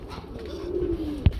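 A single soft coo from a small pigeon, close and clear, ending with a short thump against quiet background noise.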